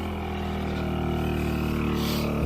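A portable generator powering an air conditioner while charging batteries, a loud steady engine drone with a constant low hum and no breaks, heard up close.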